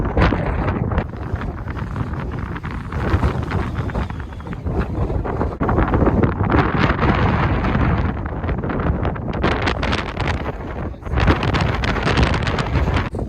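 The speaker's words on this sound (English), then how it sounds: "Here's how bad the sand and wind is." Strong wind roars continuously across a sandy campsite during truck camping in Colorado, a loud, steady buffeting rush that blasts the microphone with dense gusts and short lulls from start to finish, with no voices.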